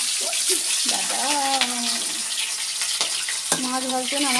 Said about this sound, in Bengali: মাছ ভাজছেন